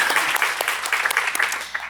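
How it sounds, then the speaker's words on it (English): Audience applause at a summit panel on multiracial democracy, a steady wash of clapping from a crowd lasting about two seconds with no talk over it. "someone wanted to clap for that."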